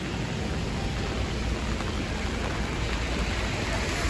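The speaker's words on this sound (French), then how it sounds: "On n'arrive même pas à voir sur la vidéo à quel point il pleut" Heavy rain pours down steadily during a typhoon in Taiwan, a dense, unbroken roar of water hitting surfaces that stays loud and even throughout with no voices.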